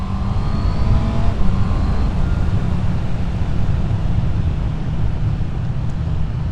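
A 2024 Honda CB650R E-Clutch motorcycle ridden on the road, its engine a steady low drone under heavy wind buffeting, with no speech.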